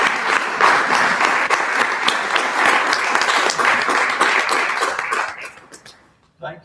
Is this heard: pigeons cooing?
no